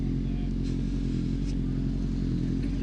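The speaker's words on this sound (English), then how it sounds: "I know some of you just like to watch" Honda CB600F Hornet motorcycle being ridden through London streets, its steady engine drone close and continuous with a faint clatter on top.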